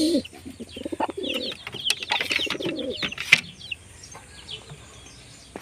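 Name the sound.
pigeons cooing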